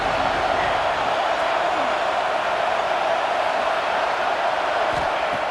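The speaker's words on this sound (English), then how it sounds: "the crowd coming to life here trying to help this defense down in the red zone" Stadium crowd roaring in EA Sports College Football 26, a steady dense wash of cheering that holds at an even loud level throughout, with no distinct voices breaking out of the mass.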